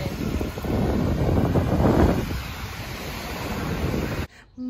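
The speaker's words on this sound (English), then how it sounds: "It's a bit windy." Wind gusting over choppy sea waves at Eastbourne beach, a loud, steady roar of surf and buffeting wind noise on the microphone that swells in the middle and drops away sharply just before the end.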